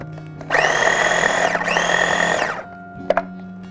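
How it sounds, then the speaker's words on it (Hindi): An electric grinder coarsely grinds spices for Turkish Adana kebab, whirring loudly in two steady bursts with a brief dip between them, then spinning down, followed by a couple of small clunks. "हमने इसको बस थोड़ा सा दरदरा सा पीसना है, इसको ज़्यादा हमें बारीक नहीं करना है।"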